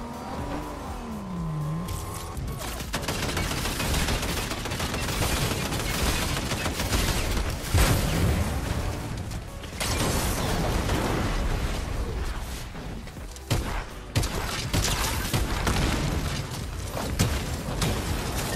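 Gunfire in a ranked solo video game match: dense, loud bursts of shots and impacts pile up almost continuously for the full stretch, with sharp spikes among them and a brief rising tone at the start.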